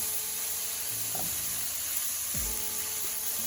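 Bacon fries in a pan with a steady, even sizzle and soft hiss, close and continuous, broken by a couple of faint clinks.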